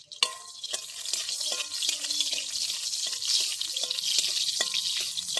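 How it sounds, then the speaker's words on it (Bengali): Dried red chillies frying in hot oil in a kadai give off a steady, fairly close sizzling hiss, broken by a few light clinks and taps. "এবার আমি শুকনো লঙ্কা ভাজতে দিয়ে দিচ্ছি।"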